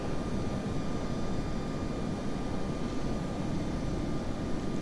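A Tupolev 154B-2 airliner taxiing toward the runway in a flight simulator, its jet engines giving a steady, even roar that holds at a constant level with no change throughout.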